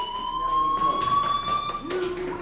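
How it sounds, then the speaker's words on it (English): A fire alarm sounds in the video game Life is Strange, a steady electronic tone ringing continuously at moderate loudness with faint background noise behind it. "do you hear that fire alarm?"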